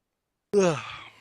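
One drawn-out yawn, voiced and breathy, starting abruptly after silence and trailing off.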